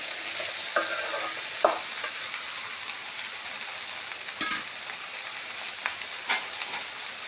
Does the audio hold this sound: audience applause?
no